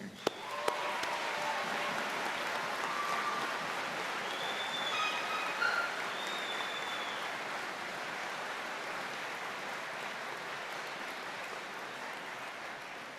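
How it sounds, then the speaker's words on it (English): Commencement crowd at Clarke University giving a long, steady round of applause, a dense soft wash of clapping heard from a distance that holds evenly throughout. "Everyone, let's give a big round of applause for that grit and determination."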